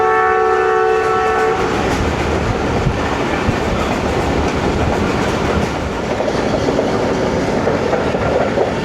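A Pakistani Babu passenger train rolls into Gujrat city at dawn in heavy rain, its horn sounding in a long steady blast at the start before giving way to loud continuous rumble and clatter of the cars.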